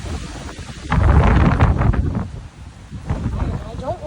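Strong wind roars and buffets the microphone during Texas flooding, with a low rumble that may be thunder, continuous and loud throughout, with a person talking over it.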